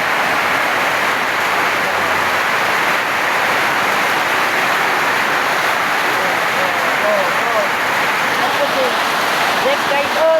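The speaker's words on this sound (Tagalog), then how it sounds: "Ulan tayo. Ulan." Heavy rain pours in a dense, steady roar of broadband hiss without a break, loud and close, with faint voices mixed under the downpour.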